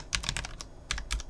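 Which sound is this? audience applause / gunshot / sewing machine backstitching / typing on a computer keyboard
typing on a computer keyboard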